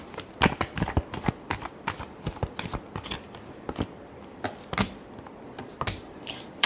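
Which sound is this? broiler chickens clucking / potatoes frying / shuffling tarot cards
shuffling tarot cards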